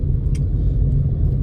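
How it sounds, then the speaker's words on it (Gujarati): Steady road traffic rumble on a crowded street in Bopal, a continuous low drone of car engines passing nearby with no pauses. "ફૂલ ટ્રાફિક હોય અહીંયા।"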